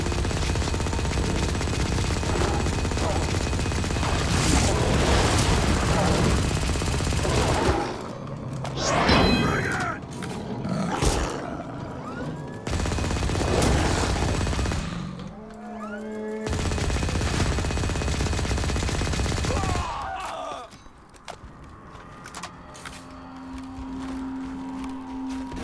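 Rapid automatic gunfire from flying and shooting in the free-to-play shooter Firefall, loud dense bursts with thuds and breaks between volleys, with someone talking over the action.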